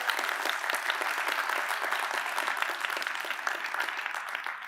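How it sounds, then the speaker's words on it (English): A convention crowd gives a speaker's guest a round of applause: dense, continuous clapping from many hands at an even, fairly loud level throughout. "Round of applause for Anthony."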